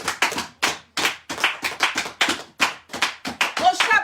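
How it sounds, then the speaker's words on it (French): A church congregation claps during a service: a steady run of sharp, closely spaced claps, loud and near, continuing without pause for several seconds. "Acclamons pour la parole de Dieu"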